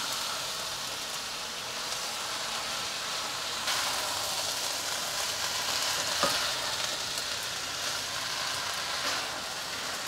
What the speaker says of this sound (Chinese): 芦笋炒到有点变绿色了，接着来放青江菜，还有高丽菜，先加大约50cc 的水进来，彻底的翻炒均匀。